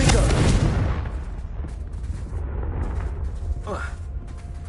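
A Confringo fire spell blasts in Hogwarts Legacy, a loud booming burst at the start that rumbles and fades over a few seconds, with faint game sounds trailing after.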